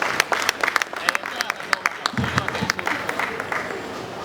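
Scattered applause from an audience welcoming the president of the Abuja Chamber of Commerce and Industry at a trade fair opening, with sparse individual claps, a low thump midway and faint murmuring underneath.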